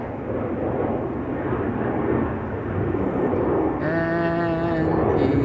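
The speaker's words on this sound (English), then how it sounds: "KLM 737-800 to Bucharest." A KLM Boeing 737-800 taking off from Schiphol's Polderbaan, a sustained rumbling jet roar, with a bleating sheep rising in the background near the end.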